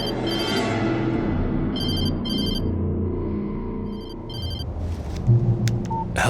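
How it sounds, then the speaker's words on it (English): A telephone rings in the Alan Wake Remastered video game, with repeated bursts of a high electronic ring over a dense, steady background of game ambience and music. "She was startled by the phone."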